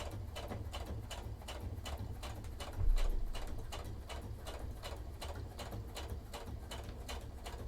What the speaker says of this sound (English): I'm doing a bit of boring sewing at the moment